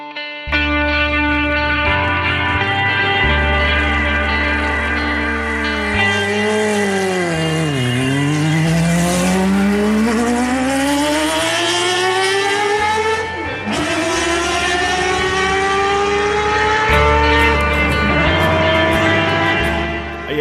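A Honda Civic Si engine revs up and down through the gears, loud and sustained, with rising and falling pitch sweeps and a dip as it shifts, heard alone without talk.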